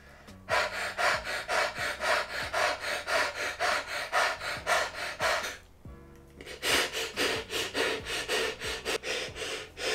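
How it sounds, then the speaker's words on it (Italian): Deep, rhythmic breaths of the Wim Hof breathing exercise, drawn in and pushed out in a steady repeating cycle of about two per second, close and loud, with a brief pause near the middle before the breathing resumes. "si fanno altre 21 respirazioni"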